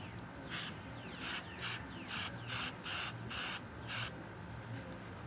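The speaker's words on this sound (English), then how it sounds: "I'm going to go ahead and use the hairspray" Hairspray from an aerosol can, heard as eight short, steady hissing spurts in an even rhythm, close and clear over a low background hum.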